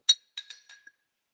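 Glassware clinking while a purple sweet potato latte is being made: one sharp ring, then a cluster of three or four lighter clinks that trail off, close and clear in a quiet room.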